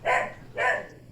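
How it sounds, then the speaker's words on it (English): Two sharp barks from pet dogs, one around the start and another about half a second later, fairly close and moderately loud, with no talk over them. "And my dogs are going berserk."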